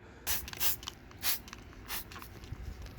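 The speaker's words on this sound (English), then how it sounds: "this is super strength, a degreaser" Super strength degreaser sprayed onto a 2007 Honda Goldwing GL1800 motorcycle, heard as four or five short hissing bursts from a trigger sprayer close by, separated by brief pauses over a low background hum.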